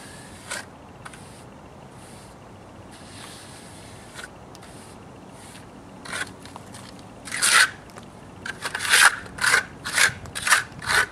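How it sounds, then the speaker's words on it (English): Old stucco being scraped out of a wall by hand, with quiet rasping strokes at first, then louder, quicker gritty scrapes in a rhythmic series toward the end, close and without talk. "Try to scrape out as much as I can here."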